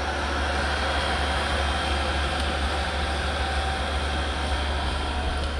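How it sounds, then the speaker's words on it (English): A centrifuge runs steady after being shut down, with its motor hum and whir continuing evenly as it spins down. It is fairly loud and close, with no talk over it. "We're going to shut this centrifuge down."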